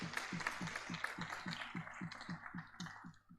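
Faint, steady rhythmic clapping from a launch-event audience, evenly spaced hand claps repeating about four times a second over a soft background.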